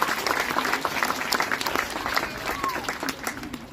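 Spectators at a bird show applauding Raj the Indian peafowl, dense steady clapping from a fairly large crowd that carries on evenly, with some voices mixed in.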